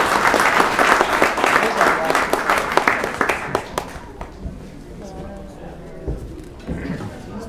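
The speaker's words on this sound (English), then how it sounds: "let's have another round of applause for Scott" Loud audience applause for Scott at a talk breaks out for about four seconds, then cuts off, leaving quieter room sounds and some talking.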